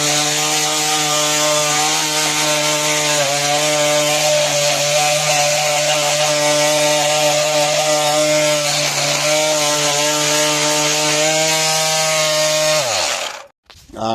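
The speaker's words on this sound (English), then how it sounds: "get a little bit of sandpaper and attach it to the end of my drill" A drill fitted with sandpaper sands an alloy wheel on an 18-year-old BMW E93, giving a loud, steady, high motor whine that runs unbroken for about thirteen seconds before cutting off.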